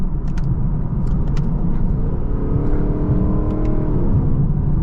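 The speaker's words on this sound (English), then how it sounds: "for a factory stock V8 from Lexus, it definitely sounds really good" A stock Lexus LC500 V8 engine rumbles at idle then revs up smoothly, a steady low growl with a few faint clicks on top.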